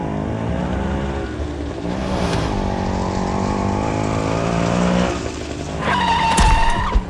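A cartoon car revs hard with a sustained engine whine, then brakes abruptly, ending in a sharp tire squeal and skid near the end.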